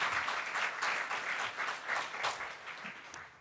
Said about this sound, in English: So that's worthy of a round of applause.